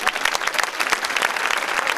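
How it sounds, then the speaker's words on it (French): Theatre audience at a Sister Act presentation clapping, a brief dense burst of applause from many hands, steady and close. "alors je vais l'applaudir, elle s'appelle Julie"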